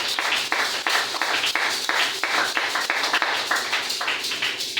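A church congregation claps steadily in rhythm as an offering of acclaim to God, with loud, even group clapping that continues throughout.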